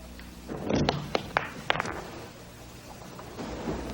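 In a straight pool trick shot, a cue strikes the cue ball, followed by a few sharp clacks as balls collide and drop into pockets, with dull thumps over a low room rumble.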